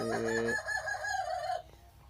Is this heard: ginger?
no